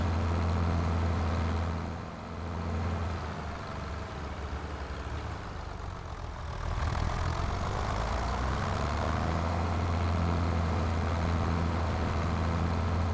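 Farm vehicle engine in a farming video game, a steady low rumbling drone that keeps going, with a brief dip and swell in the middle.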